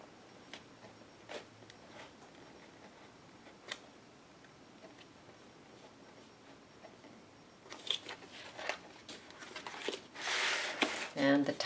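Corrugated cardboard being cut, faint sparse snips and scrapes at first, then a denser, louder burst of cutting and rustling near the end, with no speech.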